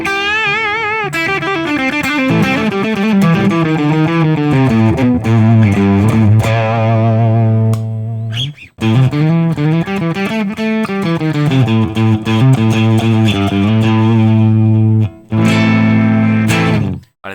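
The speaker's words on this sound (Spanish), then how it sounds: "vamos a empezar por el Bass 67, ya digo que son amplis muy ligeritos de distorsión" An electric guitar runs through a Mercuriall Spark emulation of a Marshall Bass 67 amp with the gain at maximum, playing loud, lightly distorted sustained riffs and chords in phrases broken by a couple of brief pauses.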